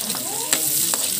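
Onion, garlic, ginger and chili sauté in hot oil for a Filipino tilapia sinag-et dish, giving a close, steady sizzle with a couple of quick spatula scrapes.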